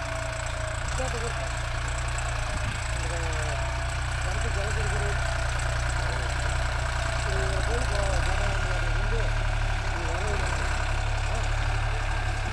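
A Deutz-Fahr Agrolux 50 hp tractor engine idles with a steady low rumble that holds throughout, loud and close, with faint voices murmuring underneath.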